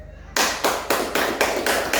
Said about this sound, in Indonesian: kita berikan tepuk tangan untuk kelompok 1 dulu dengan hasil kerjanya